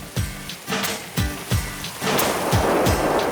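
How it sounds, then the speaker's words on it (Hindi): Rain from the first shower of the season pattering on trees, leaves and soil, a steady wash of drops with a few louder splashes, close and continuous with no voices. "ये इस बार की पहली बारिश है"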